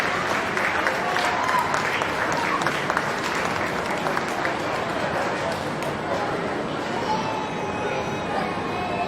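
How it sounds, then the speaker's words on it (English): Audience applause fills a county fair swine show arena, a steady dense clapping that holds loud and even throughout, with crowd chatter mixed underneath. "Let's give all of these champion guild exhibitors a round of applause."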